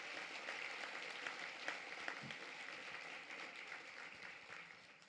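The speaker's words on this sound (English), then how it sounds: "How about a big round of applause for all of our sponsors?" An audience at a depression center annual luncheon applauds its sponsors, with steady sustained clapping from a full room and a few louder claps standing out before it slowly thins toward the end.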